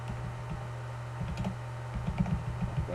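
Computer keys clatter in short irregular bursts of taps, close and quiet over a steady low hum, with no one speaking.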